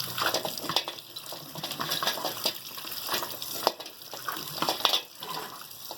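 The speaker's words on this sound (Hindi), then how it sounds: "अब इस तरह आपने नल के नीचे छन्ने में डाल के अच्छी तरीके से धोना है।" Beef trotters for paya being rinsed in a strainer under a running kitchen tap, a steady gushing, splashing stream with irregular clatters of the pieces shifting, close and continuous with no talk.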